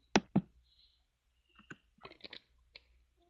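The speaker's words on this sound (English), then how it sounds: "I can hear somebody clicking on their keyboard. Somebody typed." Keyboard clicks and typing at a computer in a quiet room: two sharp clicks near the start, then a short burst of scattered keystrokes and a lone tap, all close and fairly faint, with no talking.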